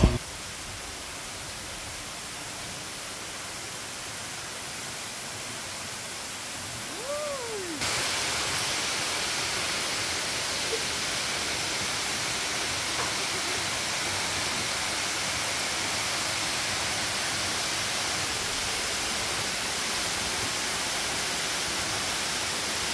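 Pinsal Falls in Lupao, Nueva Ecija, gives a constant broad rush of falling water that carries on unbroken, growing slightly louder partway through, with a faint brief whistle-like sound early on.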